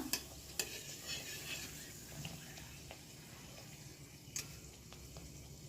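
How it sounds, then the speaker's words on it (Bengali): Nimki dough fries in hot oil for a snack, a soft bubbling sizzle with occasional utensil taps and scrapes, fairly quiet and close. "দেখুন এখন আমি তেলের মধ্যে এটা ভেজে নেব।"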